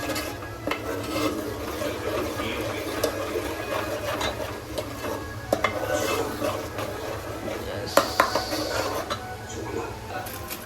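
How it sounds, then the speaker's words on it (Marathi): A spoon stirs a ginger, garlic, coriander and green chili paste in a pan for pav bhaji in a home kitchen. It gives soft, irregular scraping and clinks over a faint sizzle, with voices talking in the background. "व्यवस्थित हलवायचं आहे."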